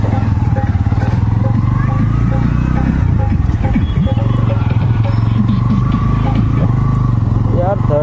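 A Bajaj Pulsar N160 motorcycle, new and not yet serviced, runs steadily with a continuous close engine drone throughout while being ridden, with a rider talking over it.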